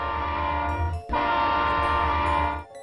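Loud, close train passing with a sustained horn blast, the steady roar and tonal horn filling the sound, broken by a brief gap before resuming and then cutting off.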